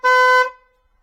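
An aftermarket eBay horn, meant to imitate a train horn, sounds once on a 2007 Honda Shadow VLX CD600 Deluxe motorcycle: a single loud, steady, brassy blast of about half a second that tapers off quickly, heard alone.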